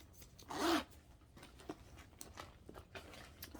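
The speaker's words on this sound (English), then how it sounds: "You have a zipper here that goes about midway down." One quick zipper pull on a tote bag's midway zipper, close and quiet, followed by faint rustling and small handling noises.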